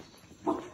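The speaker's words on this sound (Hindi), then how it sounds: "चुप कर बे कुत्ते, सो जा।" A dog gives one short bark at night, close by, breaking an otherwise quiet background.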